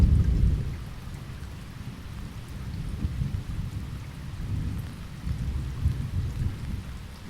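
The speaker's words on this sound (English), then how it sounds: "and thunder sounds again," Thunder rumbles deep and heavy through steady rainfall in a stormy countryside setting at dusk, with a loud roll at the start and swelling rumbles that come and go over the constant patter of rain.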